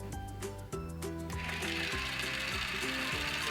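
A tiny toy mixer motor runs with slime glue in the bowl, giving a close, continuous whirring and grinding drone with uneven mechanical pulses, stuttering as though it strains and catches.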